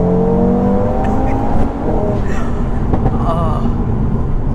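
Tuned 630 bhp Audi RS3 TTE700 five-cylinder launching hard, a loud, rising engine roar with a gear shift partway through, and voices talking over it.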